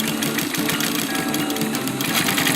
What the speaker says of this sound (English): you're gonna start sewing